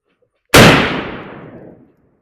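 A single sharp shot from a Henry Long Ranger .308 rifle fired at a target 100 yards away, a loud close crack followed by a decaying echo that fades out over about a second.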